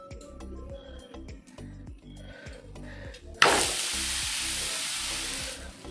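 Goan bhakri flatbread laid onto a hot pan: soft rhythmic tapping gives way to a sudden loud, steady sizzle that carries on close by to the end.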